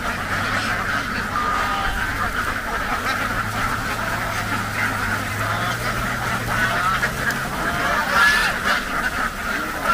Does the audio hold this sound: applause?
no